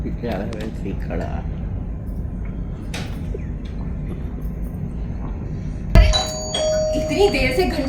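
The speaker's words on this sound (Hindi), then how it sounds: "इतनी देर से घंटी बज रही है" A doorbell chimes once, a bright sustained electronic ring cutting in abruptly after a stretch of people talking indoors, then fading under continued voices.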